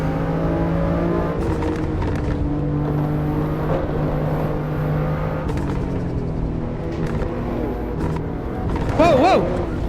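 Race car engine in Assetto Corsa Evo holds a steady droning note with shifting harmonics, rising into a brief rev near the end, with faint talk underneath.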